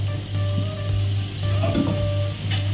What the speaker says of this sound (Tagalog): gisa-gisa natin ng konti